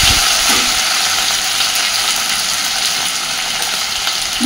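Potatoes sizzle and crackle steadily in hot oil in a pan, a loud, continuous frying hiss heard up close with no talking.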